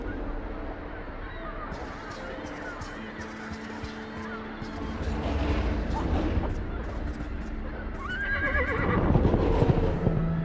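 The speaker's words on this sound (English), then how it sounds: "Whether spooked or merely provoked, the stallion launches itself from the cliffside before mighty wings carry it far above the awestruck sailor below." A winged stallion in the video game Argonus and the Gods of Stone whinnies loudly near the end, over ambient game sounds and hoof-like clatter, with a narrating voice earlier.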